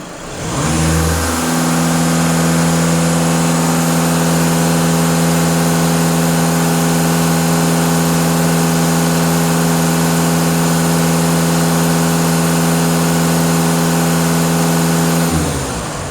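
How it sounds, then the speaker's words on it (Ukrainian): A Skoda Octavia 2.0 TDI 4x4 diesel engine rises from idle to full throttle and holds a loud, steady high-rev drone for about fifteen seconds before easing off, heard up close with no voices. "Зараз бачимо 0 на холостих, даю газ в пол."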